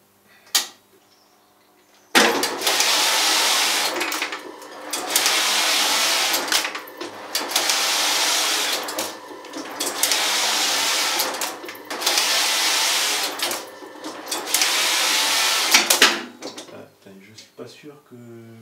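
A knitting machine in a hosiery workshop runs in automatic mode, a loud, close mechanical whirring and clattering that surges in repeated long passes with brief dips between them, after a quiet start.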